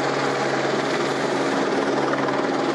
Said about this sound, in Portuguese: O helicóptero pousando ali de novo.